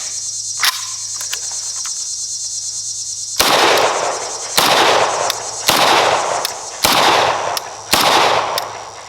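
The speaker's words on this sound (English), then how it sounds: "Let's go 5 rounds out of that AK74." Five suppressed gunshots from a Vepr AK74 rifle fitted with a Dead Air suppressor ring out at roughly one-second intervals over a steady high insect-like background hum, loud and close.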